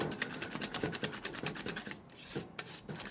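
Steady rhythmic rubbing and scraping of a whisk stirring thick banana pudding thickened with cornstarch in a pot on the stove, close and continuous with brief softer gaps, no talking.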